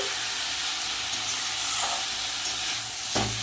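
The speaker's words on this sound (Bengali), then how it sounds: "মাংসগুলো দিয়ে দেবো সিদ্ধ করে রাখা মাংসগুলো কিন্তু আমি মশলার মধ্যে দিয়ে দিয়েছি" Boiled country chicken pieces sautéing in a spice masala for curry, a dense continuous sizzle and hiss with faint stirring scrapes, close up and steady, with no voice over it.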